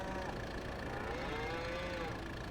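Cattle moo in a farming video game, a long drawn-out low moo rising and falling over a steady wash of farm ambience, with no talking.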